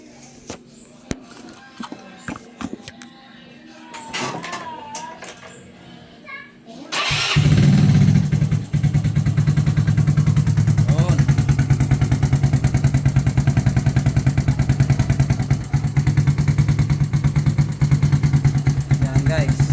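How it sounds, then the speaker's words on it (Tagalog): A Yamaha Mio sporty scooter with a soul carburetor and a second-hand TRC exhaust pipe starts up partway through after some talking, then idles loudly and steadily with a close, throbbing exhaust note. "soundcheck na nga pala natin yung binili nating second hand na pipe. TRC nga pala to guys."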